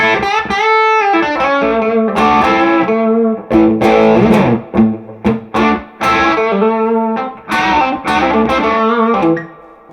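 An electric guitar played through an Origin Effects Revival Trem drive pedal rings out in loud, compressed, smooth overdriven chords and single notes, with a few short pauses between phrases.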